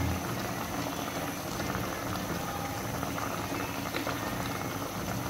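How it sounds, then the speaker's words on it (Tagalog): Paksiw na galunggong, fish simmered in vinegar, boils in a pot with a steady, dense bubbling that holds at an even level throughout, with no voices. "Kailangan pakuluin ng pakuluin."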